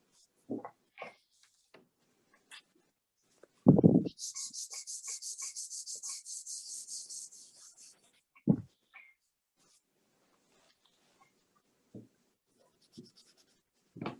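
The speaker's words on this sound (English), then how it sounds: "And I'm gonna take my paper and blend this area here." Paper rubs rapidly back and forth over a pencil drawing for several seconds, a rhythmic scratchy swishing set among sparse pencil taps and scratches, close and with no speech.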